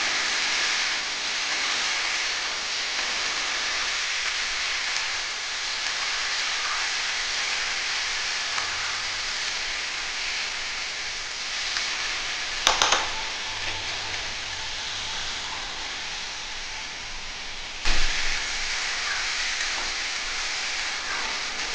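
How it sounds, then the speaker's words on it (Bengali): Young jackfruit fries in hot oil for a Bengali-style echor kalia, giving a steady, even sizzling hiss throughout, broken by a couple of brief clicks. "এটাকে খুব ভালো করে ভাজতে হবে।"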